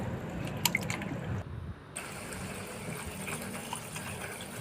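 Water runs and splashes as a pumpkin is rubbed and rinsed by hand in plain water in a kitchen, close trickling and dripping with a brief pause, then a steady flow.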